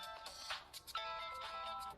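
A mobile phone ringtone plays a repeating bright electronic melody in two matching phrases, fairly loud and close, with no talk over it.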